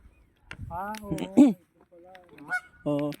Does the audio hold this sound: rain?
no